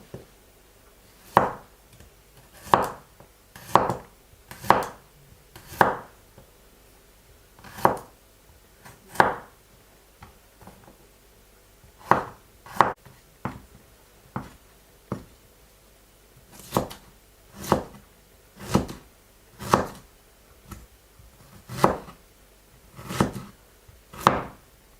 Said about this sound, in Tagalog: Hiwa tayong bawang.